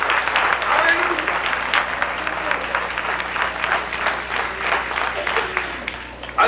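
A church congregation applauds, steady massed clapping filling the room at a fairly loud, even level for several seconds, with voices faintly mixed in.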